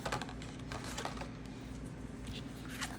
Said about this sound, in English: you're just cutting, leaving a little bit of space around each petal